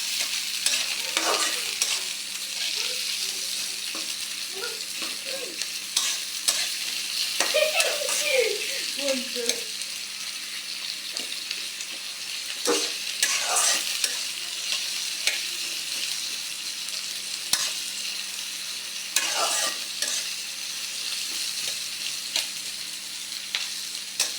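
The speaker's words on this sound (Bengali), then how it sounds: "এবার দেব পেঁয়াজ কুচি" Chopped onion frying in a pan with beans and cauliflower in a village kitchen, with steady sizzling and repeated stirring scrapes throughout, no talking.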